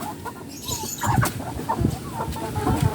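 Six-month-old Rhode Island chickens cluck and murmur close by in a flock, soft overlapping calls repeating irregularly over a rustling background.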